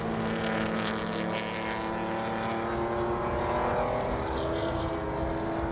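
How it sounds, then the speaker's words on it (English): A Mustang historic touring car at a race meeting, its engine note rising and holding steady as it powers through the final corner, loud and continuous with no talk over it. "Just listen to this car through the final corner."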